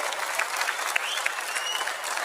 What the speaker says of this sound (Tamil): அவருக்கு உங்களின் பலத்த கைத்தட்டலை வழங்குமாறு அன்போடு கேட்டுக்கொள்கிறோம்